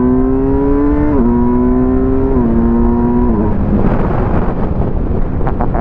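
A Kawasaki Versys 1000 SE motorcycle under way, its engine note climbing and stepping through gear changes as it accelerates, loud and steady with heavy wind rush over the microphone throughout.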